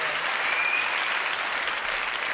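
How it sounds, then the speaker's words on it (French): A TV studio audience applauds a young man on a French talk show, a dense wash of steady clapping filling the whole moment. "Applaudissements pour ce jeune homme"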